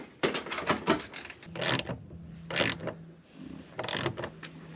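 Wrench work tightening a hose clamp on a snorkel rubber connector of a 2.5 Gen Toyota Tundra, a series of short metallic clicks and ratcheting taps in bursts, close by, with no talk.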